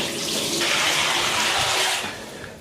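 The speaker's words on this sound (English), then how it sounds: "if you want a nice hot shower, my God, the water gets really hot" Hot water gushes steadily from a strong walk-in shower in a Park Hyatt Kyoto hotel bathroom, a loud, continuous broadband rush that eases slightly near the end.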